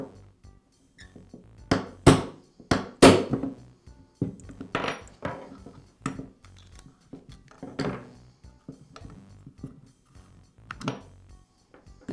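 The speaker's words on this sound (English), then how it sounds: "The second pin, I'll use a hammer and punch to remove." A hammer and punch drive out a pin from a Makita reciprocating saw: sharp metallic taps and knocks at irregular intervals, close by, with brief quiet gaps between strikes.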